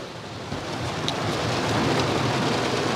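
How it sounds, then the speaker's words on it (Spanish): Steady rain falls outdoors before dawn, a dense, continuous hiss of drops close around a handheld microphone, with a faint low rumble beneath and no talking. "está lloviendo y no sé si se escucha"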